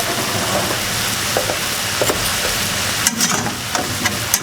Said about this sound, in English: I can mix the onions a little bit more